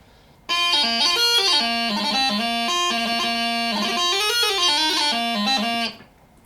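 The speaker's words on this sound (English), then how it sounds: "the way it normally sounds" A practice chanter plays a steady reedy melody, bright and nasal, with notes stepping up and down continuously for several seconds before stopping.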